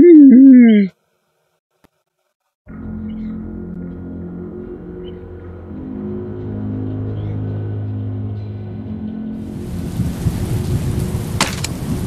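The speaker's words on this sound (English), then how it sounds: "Why is it raining?" Rain and thunder in a Walking Dead video game roll in after a brief pause following a short melodic chime, a steady low rumble of storm with falling rain building toward a louder, hissing downpour at the end.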